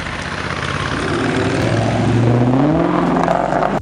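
A Dodge Magnum SRT8 wagon from 2006–2008 with a 6.1-liter HEMI V8 roars loudly and close, its engine note climbing steadily in pitch as it revs up.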